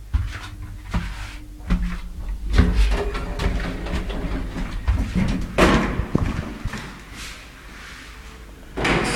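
Elevator door in a Bat Yam apartment building sliding open and closing, with repeated clunks and thumps, a rumbling mechanism and a final louder bang, heard close up.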